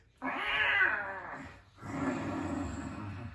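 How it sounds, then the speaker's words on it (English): Cats yowl in two drawn-out, wavering caterwauls separated by a short pause, fairly close and alone with no talking. "Nasty cat things!"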